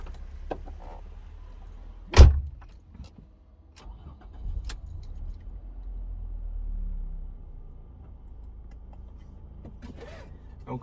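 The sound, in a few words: 2006 Ford Mondeo Ghia car starting off for a drive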